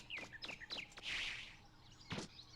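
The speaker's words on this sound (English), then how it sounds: "of just the forest chirping back" Forest birds in the video game Megaman Legends chirp in a quick run of short, bright tweets, then a brief burst of rustling and one more sharp call, all fairly quiet against a calm background.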